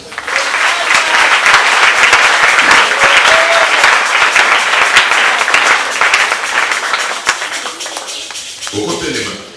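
A church congregation applauds in praise at a marriage conference closing, dense sustained clapping filling most of the clip, tapering near the end with some voices mixed in.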